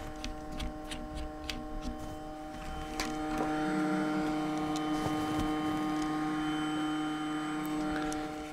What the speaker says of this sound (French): Leurs ventilateurs, je sais pas ce qu'ils leur ont donné à manger, mais ils sont survitaminés